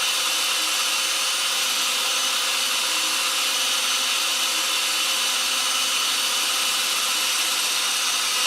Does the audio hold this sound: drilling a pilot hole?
yes